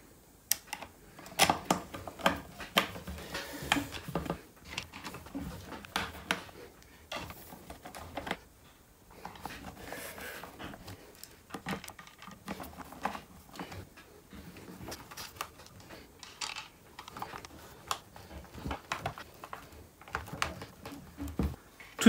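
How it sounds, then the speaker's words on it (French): Small screws are started one by one into the cover of an orbital sander with a hand screwdriver, giving faint, irregular close clicks and scratchy ticks spread across a quiet workbench. "Je commence par amorcer toutes mes vis."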